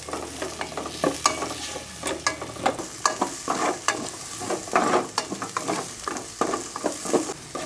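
Pork, onion, garlic and tomato are stirred in a frying pan, with close, steady sizzling broken by repeated scraping and clattering strokes of a utensil against the pan, with no talking.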